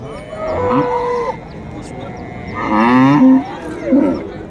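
Cows bellow at a busy cattle market, two long, loud moos close by with a shorter call after, over faint background bustle.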